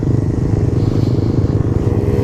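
A Honda Grom motorcycle upgraded from a 50cc to a 100cc engine runs on a rainy day, its small single-cylinder engine putting out a steady, close, throbbing putter with no voices over it.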